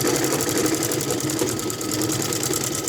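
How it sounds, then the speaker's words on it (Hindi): A sewing machine runs a steady, continuous stitch along a suit or kameez seam, its rapid rhythmic whirr loud and close without pause. "फिर से हम इस पर सिलाई चला देंगे।"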